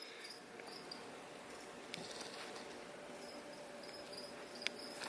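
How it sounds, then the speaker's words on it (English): Crickets chirp steadily in a bioactive crested gecko terrarium, a dense high-pitched trilling bed with a few sharper chirps standing out, fairly close and continuous throughout. "I'm sure y'all can hear all the crickets going off"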